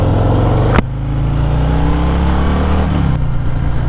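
A 2021 Harley-Davidson Fat Boy with a 114 cubic inch Milwaukee-Eight V-twin revs up close and loud, with a sharp blip of throttle, then a steady deep rumble and another quick rev near the end.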